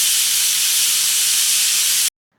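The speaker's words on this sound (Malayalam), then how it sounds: "കുക്കർ സ്റ്റവിൽ വെച്ചതിന് ശേഷം 2 വിസിൽ വരുമ്പോഴത്തേക്കും നമുക്ക് സ്റ്റവ് ഓഫ് ചെയ്തിടാം" A pressure cooker with tender jackfruit inside releases steam in a loud, steady, close hiss that holds for about two seconds and then cuts off abruptly into silence.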